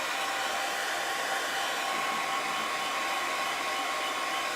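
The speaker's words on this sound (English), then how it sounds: "I'm gonna dry this with my hair dryer" A hair dryer runs steadily and close by, blowing to dry chalk paste on a craft project, a continuous loud broadband whoosh with a faint whine and no talking.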